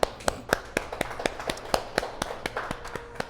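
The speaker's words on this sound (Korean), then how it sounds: "하나님께 영광의 박수 올려드리겠습니다" A church congregation claps in a brisk, even rhythm of sharp, close hand claps that continues steadily from start to end.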